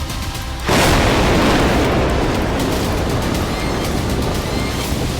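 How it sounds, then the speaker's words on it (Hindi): A sudden loud blast from an anti-tank missile hitting an armored vehicle erupts after a short quiet stretch, then rolls into a sustained roaring rumble that stays heavy until the end. "लेबनान बॉर्डर के करीब खड़ी इजराइल की बख्तरबंद गाड़ी को एंटी टैंक मिसाइल से टारगेट किया गया"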